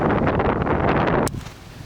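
Strong mountain wind on the Vermont Long Trail near Middlebury Snow Bowl buffets the microphone in a loud, rough roar, then cuts off abruptly to a quieter, steadier outdoor rush.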